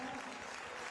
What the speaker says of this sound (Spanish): Aplaude también la afición